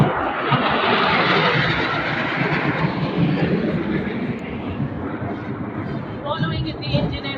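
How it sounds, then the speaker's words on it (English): A formation flypast of multi-engine military aircraft at a parade, a loud sustained broadband engine roar that fills the whole stretch and fades slightly toward the end, heard alone without talk. "However, the formation showcases only multi-engine aircraft. Ladies and gentlemen, the Sindoor formation."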